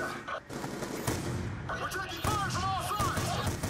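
Gunfire in a Black Ops 2 campaign mission, rapid bursts of shots mixed with game effects and an alarm-like tone, loud and busy, with someone talking over it.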